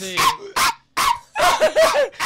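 A young man imitates an angry, rabid-sounding dog with a rapid series of loud, close barks and yips, some stretched into whiny howls.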